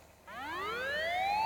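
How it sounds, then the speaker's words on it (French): A Minecraft alarm block going off in a vault room, a single rising electronic siren tone sweeping upward in pitch, loud and clear with no voices. "Bon, c'est une alarme un petit peu relou"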